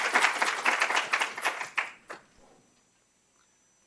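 An audience applauds at a summer intern symposium, a dense burst of clapping that thins out and fades into near silence after about two seconds.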